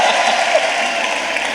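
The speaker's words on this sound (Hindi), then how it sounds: "थोड़ा बहुत लिहाज हो तो हमारे लिए भी तालियां बजाती है आप लोग।" Applause from the audience at a mushaira poetry gathering, a continuous, even crowd clapping that stays loud and steady throughout with no voices over it.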